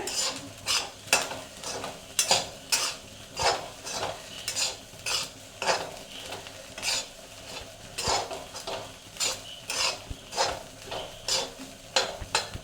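Clam meat fried with garam masala in a pan for a Kerala kakka fry: a spatula scrapes and stirs in a steady rhythm about once a second over a light, continuous sizzle.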